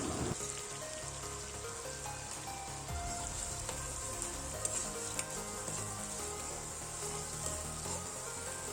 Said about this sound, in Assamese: এতিয়া পিচি থোৱা পিঁয়াজখিনিও দি লৈ অলপ সময় ভাজি ল'ম